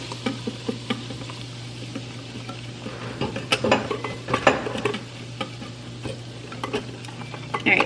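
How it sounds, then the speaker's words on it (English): Hot oil mixed quickly into chile in a bowl, giving a soft crackling sizzle with rapid scraping and clinking of stirring, moderately close under a steady low hum. "Bowl with the chile, and you're gonna put your oil and just mix as quickly as you can"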